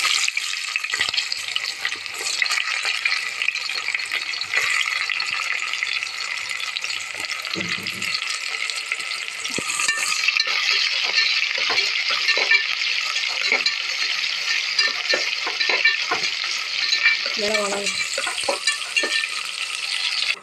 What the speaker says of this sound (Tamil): இப்போ வெங்காயம் நல்லா வதங்கிச்சு